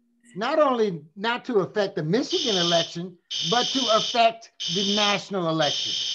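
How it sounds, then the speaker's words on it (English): A building fire alarm buzzes in steady high-pitched bursts, sounding loudly beneath and between a man's continuous speech. "That's a fire alarm."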